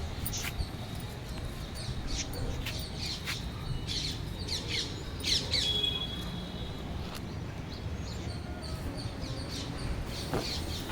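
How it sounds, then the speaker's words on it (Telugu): Birds chirp and squawk in short, scattered bursts among potted plants in a terrace garden, fairly faint against steady low background noise with no talking. "పక్షులు చూసారా సంతోషంగా ఎలా కిలకిలా రావాలు చేస్తున్నాయో"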